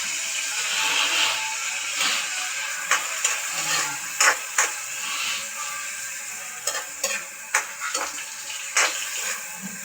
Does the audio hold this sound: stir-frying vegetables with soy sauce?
yes